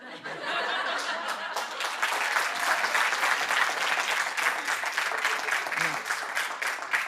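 A studio audience at a Portuguese comedy programme bursts into sustained applause, the crowd's clapping thick and even throughout with scattered chuckles and laughter mixed in.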